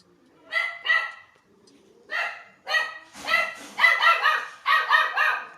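Dogs bark and yip in a video game bus-driving scene, a series of sharp close barks in uneven bursts, growing busier and overlapping toward the end.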